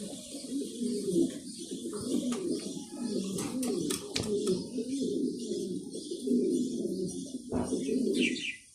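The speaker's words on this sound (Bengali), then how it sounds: "এগুলো হচ্ছে বান্দর কবুতর" Bandar pigeons coo in a low, continuous rolling murmur close by, with a few sharp clicks and a brief chirp near the end.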